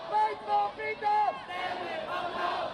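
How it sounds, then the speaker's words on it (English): A large, loud crowd of protesters gathered outside in Hong Kong, chanting and shouting together in rising and falling waves, with voices blending into a continuous distant roar. "A much larger, louder crowd gathers outside"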